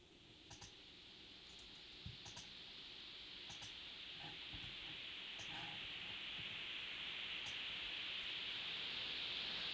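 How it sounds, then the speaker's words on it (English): Filtered white noise from a Pro Tools signal generator, a thin steady hiss slowly swelling in level with gentle modulation, while faint keyboard and mouse clicks tick quietly in the background. "this is just some white noise from Pro Tools signal generator"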